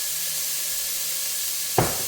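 Onion and garlic sizzle steadily in a hot pan with a constant hiss, followed by a short louder burst near the end, as if something is added or stirred.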